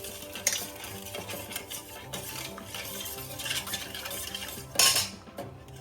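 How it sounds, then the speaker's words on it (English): A spoon stirs sugar into a yeast mixture for appam batter in a bowl, with steady scraping and clinking. It ends in a brief louder clatter and carries no speech. "Mix it properly so that the sugar melts properly."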